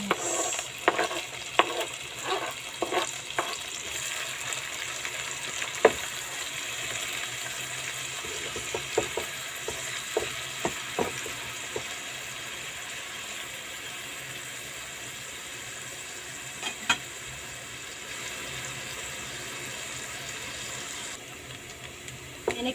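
Garlic and onion sauté in cooking oil in a pan for a meatball sauce, giving a constant soft sizzle broken by clinks and scrapes of stirring, which are busier early on and sparser later.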